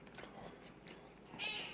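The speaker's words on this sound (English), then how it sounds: "It's my other little cat." A small rescued house cat meows indoors, one short, close call near the end rising above faint room noise.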